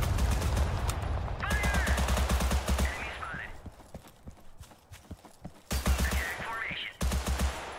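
Automatic gunfire in the Total Conflict Resistance video game, loud rapid bursts near the start and again toward the end with a quieter gap between, and a voice talking at times.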